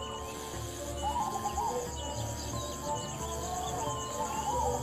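A soft, repeated zebra dove cooing drifts over a steady background hum, with faint chirps from other birds mixed in.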